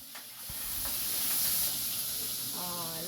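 Aromatics sauté for a malunggay and coconut vegetable dish, a steady sizzle and hiss from the pan swelling and holding, with a voice speaking briefly near the end.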